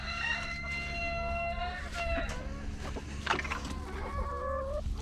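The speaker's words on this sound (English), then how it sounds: "Roosters, always a problem." Roosters and hens in an egg-layer pen on a farm, with several sharp crowing calls and scattered clucks over a low steady background hum, fairly close.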